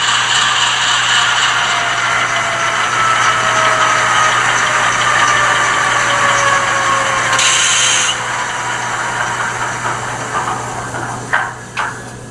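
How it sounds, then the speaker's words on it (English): A ScaleTrains Dash 9 model locomotive with an ESU LokSound decoder plays its diesel shutdown sound: a loud, steady engine drone that fades and settles, then a few brief clanks near the end. "So now I'm going to turn off all the lights and shut the locomotive down."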